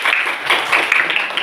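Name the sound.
classroom applause for a student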